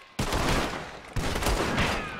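Gunfire volley during a train heist in Red Dead Redemption 2: two dense bursts of overlapping shots erupt one after another, loud and close, with rapid cracks filling the space and no voices over them.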